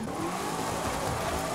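A car engine revs hard and continuously in the driving video game Forza Horizon 5, a brief loud, dense roar with no talk.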